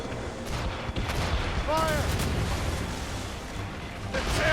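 Ship cannons firing in the naval battle game Assassin's Creed Rogue, several heavy booms over rumbling battle noise, with shouting voices partly over them.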